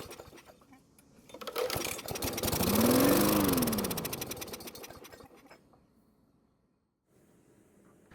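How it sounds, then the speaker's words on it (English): A small Poulan lawn mower engine sputters to life, revs up into a loud whining run for a few seconds, then winds down and dies, leaving near silence. "the engine started and ran for a couple of seconds, but the bad news is that it didn't stay running"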